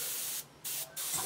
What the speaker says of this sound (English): Check the airbrush is spraying properly.